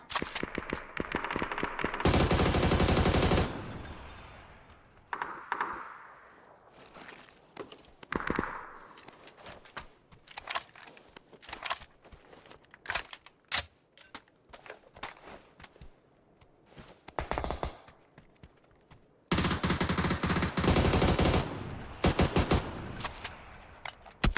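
Automatic rifle fire in an online shooter game, loud sustained bursts at the start and end with scattered single shots and footsteps between, no talking.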